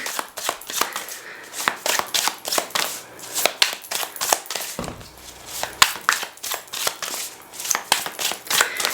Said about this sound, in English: I'm gonna shuffle this a little more to make sure that it's really well shuffled together